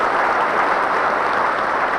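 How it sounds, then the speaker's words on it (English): Thunderous applause fills a church as Auxiliary Bishop of Brooklyn James Massa is installed as pastor of Holy Family St. Thomas Aquinas, a dense, steady wash of clapping from a large congregation with no break. "With thunderous applause"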